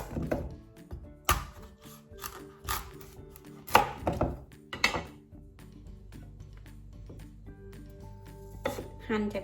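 A knife chops through a halved, seeded yellow pumpkin in a home kitchen while red curry is being made, giving a string of close, uneven thuds on a board with short pauses between cuts.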